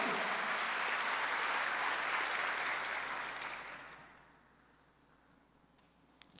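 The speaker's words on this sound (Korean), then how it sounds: "박수 한번 더 주세요" A church congregation applauds during a Sunday worship service, a dense wash of clapping that fills the room for about four seconds before fading away into near silence.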